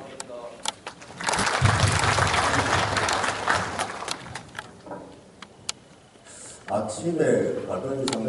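Audience at a formal safety-education ceremony for academy operators applauding, a steady swell of clapping lasting several seconds, then tapering off before a second shorter burst, with speech around it.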